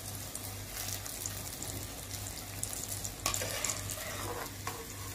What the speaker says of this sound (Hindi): इसे तरह हाई फ्लेम ते ना तेज गर्म ऑयल विच मैं सारी अरबी फ्राई कर लैणी